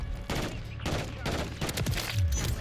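FR 556 burst rifle firing in Modern Warfare 3 gameplay, several sharp bursts of shots in quick succession, loud and close, with game sounds between them.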